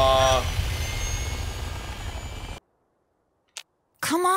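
Vertibird helicopter in the Fallout New California game roars with loud rotor wash and engine noise, then cuts abruptly to silence, with brief bursts of other sounds after.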